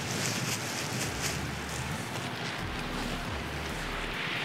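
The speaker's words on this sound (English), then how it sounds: "it's pretty windy" Steady outdoor wind buffeting the microphone on a windy day, a continuous low rushing roar with no breaks, fairly loud and close.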